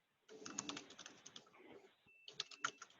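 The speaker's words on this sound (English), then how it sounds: "I'm typing in my company name, Lisa." Someone types in a company name on a computer keyboard, rapid irregular key clicks close to the microphone in two bursts with a short pause between them, with no talking.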